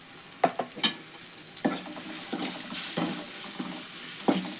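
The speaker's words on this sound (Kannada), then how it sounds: "ಎಲ್ಲ ಫ್ರೈ ಮಾಡ್ಕೊಂಡ್ರಿ ಎಣ್ಣೆ ಒಳಗೆ ಸ್ವಲ್ಪ ಅರಿಶಿನ ಪುಡಿ ಅಷ್ಟು ಹಾಕೊಂಡ್ರೆ" Spices fry in oil with turmeric powder for a cauliflower stir-fry, with a low sizzle broken by several sharp stirring scrapes and clinks of a spoon against the pan. The sound is close and has no talk over it.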